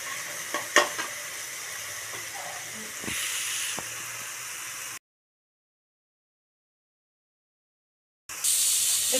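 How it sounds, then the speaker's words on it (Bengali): Falui fish frying in hot oil gives a close, steady hiss and sizzle with a few sharp pops and utensil taps, cutting to silence midway before the sizzle returns louder. "গন্ধটা যাতে চলে যায় একটু ভালো করে ভেজে নিতে হবে।"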